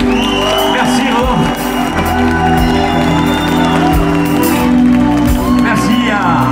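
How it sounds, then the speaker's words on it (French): Audience at a tribute show applauding and cheering with shouts and whoops, a dense steady crowd roar filling the room while music tones hold underneath. "Je vous demande d'applaudir"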